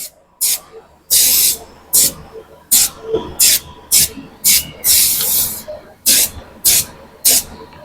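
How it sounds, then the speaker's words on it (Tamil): Repeated short bursts of silicone aerosol spray hissing nearby onto a Royal Enfield Himalayan 450 motorcycle, about a dozen quick sprays in an uneven rhythm with brief pauses between them. "ஸோ சிலிக்கான் ஸ்ப்ரே யூஸ் பண்ண போகிறோம்."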